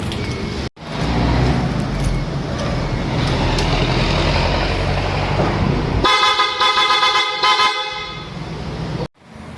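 PIAA horn fitted to a Honda ADV160 scooter being tested, sounding in long loud continuous blasts with a short gap near the start, shifting to a brighter twin-tone blare for the last few seconds before cutting off.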